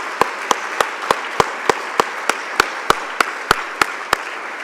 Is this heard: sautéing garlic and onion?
no